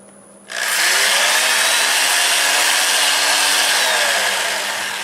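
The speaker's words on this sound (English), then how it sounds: "I think I can carefully sand that like this." Sandpaper meets a spinning plum crotch hollow form on a wood lathe, a steady, close, broadband hiss that starts abruptly after a short low hum and carries on unbroken with no talking.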